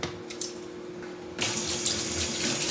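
A kitchen tap runs over a sink while strawberries are rinsed, a quiet background hum giving way to a sudden steady hiss and splash of flowing water, close and continuous.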